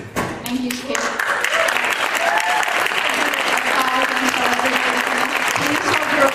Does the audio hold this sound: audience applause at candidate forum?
yes